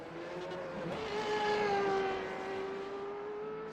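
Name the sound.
Renault 3.5 race cars driving on track at Belle Isle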